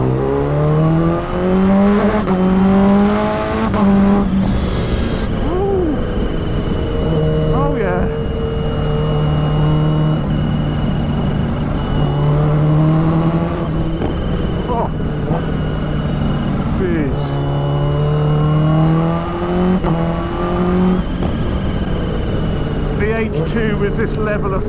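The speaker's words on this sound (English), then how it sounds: "This level of power and the throttle response I've got on this bike at the moment when it's in full power mode" A Kawasaki Ninja H2 motorcycle drones steadily under way, its engine note rising and falling as the rider works the throttle. Wind rush fills the background throughout, and no voice is heard.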